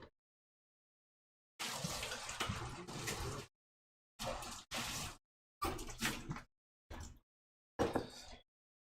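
Water splashes and swirls as a lab beaker is rinsed out, in several separate bursts of running water broken by silent pauses, close and fairly loud.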